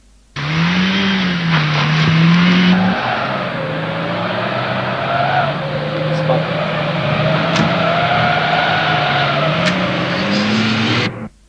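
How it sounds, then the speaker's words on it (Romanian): Aro off-road cars drive in a field demonstration, engines droning and revving loudly and continuously with shifting pitch, while a voice narrates over the top. "unde au putut urmări în teren, de data aceasta, demonstrația mașinilor Aro"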